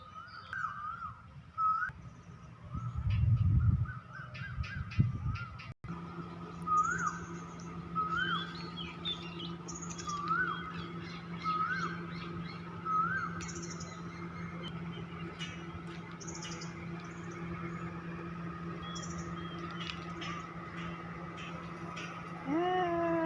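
Repeated bird calls, short rising whistles and chirps, ring out over a steady outdoor hum, with a brief low rumble near the start.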